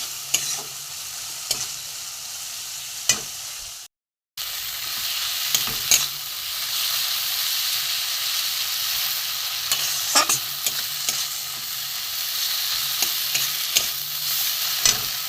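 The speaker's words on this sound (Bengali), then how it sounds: "আমি এটাকে কষিয়ে নেবো একটু ভালো করে কষিয়ে নেবো" Spices for an egg and potato curry are stir-fried in a pan with a splash of water, a steady close sizzle punctuated by repeated sharp scrapes and clacks of the spoon, with one brief silent gap.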